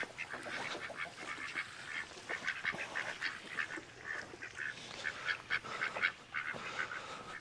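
Ducks quack in a busy, overlapping chorus of nasal calls during morning chores among farm chickens and ducks, close and fairly loud with no talking.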